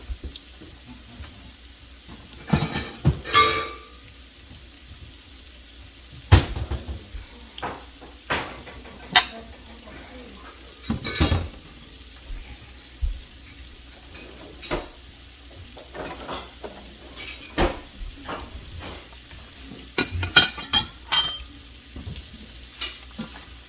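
Shrimp sautéing in a pan for scampi, with intermittent clinks and scrapes of stirring over a low steady sizzle, sharp utensil hits scattered through the clip at moderate loudness.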